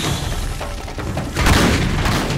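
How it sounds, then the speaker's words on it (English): A shotgun fires rapidly in the video game Uncharted 3, with heavy booming blasts over a dense, noisy game soundscape that swells louder halfway through. "It's pretty rapid fire for a shotgun."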